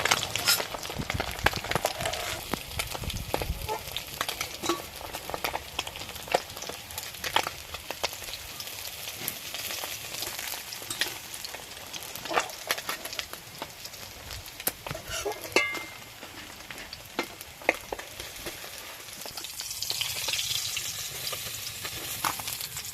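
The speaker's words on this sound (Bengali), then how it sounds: "মাছের দু পিঠ ভেজে নিয়েছি" Fish fry in hot oil in a pan for a Bengali river fish curry, making a steady, fairly quiet sizzle and crackle with scattered sharp pops and spatters and no talk.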